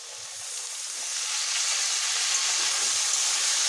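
Potatoes frying in a pan with pointed gourd then added, a steady close sizzle and hiss that swells slightly louder partway through, with no talking.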